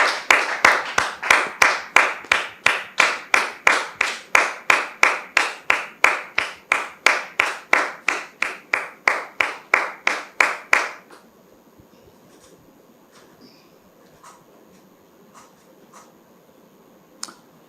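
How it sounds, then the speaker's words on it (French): A studio audience on a television talk show claps in a fast, steady rhythm for about eleven seconds, loud and close, then falls almost silent. "sous vos applaudissements, s'il vous plaît"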